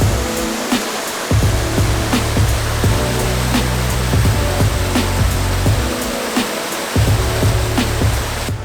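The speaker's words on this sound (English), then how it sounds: "it's a neat little spot right at the bottom of the waterfall" Burrell Falls in Panthertown Valley, Nantahala National Forest, roars as a steady broadband wash of falling water heard from the base of the falls, loud and constant with occasional thumps and rustles nearby.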